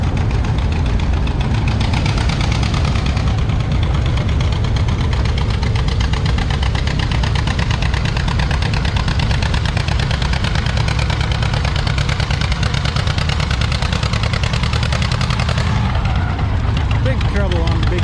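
A John Deere D tractor pulling a sled at a tractor pull, its engine roaring loud and steady with a thick low rumble and rapid rough firing throughout, a voice faintly under the noise.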